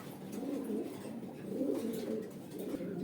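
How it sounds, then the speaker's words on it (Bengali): Pigeons coo steadily and close by, a soft continuous throaty murmuring from several fancy breed birds for sale at a pigeon market in Konabari, Gazipur, with no talking. "দর্শক দেখতে পাচ্ছেন ইনপুট করা কবুতর"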